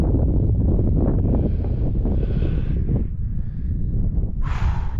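Cold wind roars steadily across a high mountain summit near Enchantment Peak, loud buffeting gusts filling the whole stretch with no voices.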